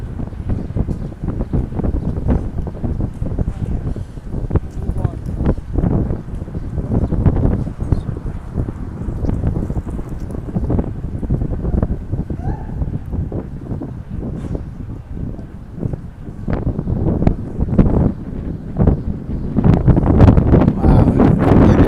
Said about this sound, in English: Really windy. Holy cow. That wind.